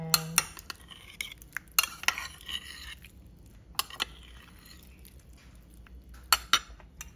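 A utensil clinks against a bowl as gelatin is stirred into a mango lychee tapioca mixture, with sharp scattered scrapes and taps separated by quiet gaps.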